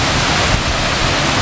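Waterfall on a hiking trail along the La Cloche Silhouette route, a loud, steady broadband rush of falling water heard up close, continuous and unbroken with no talk over it.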